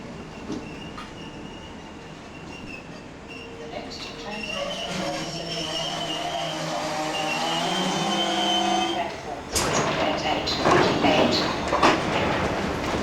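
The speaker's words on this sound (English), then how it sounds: "But eventually our train arrives." A commuter train pulls into a station, its rumble building over several seconds with squealing wheel and brake tones. A louder burst of noise follows as it comes to a stop.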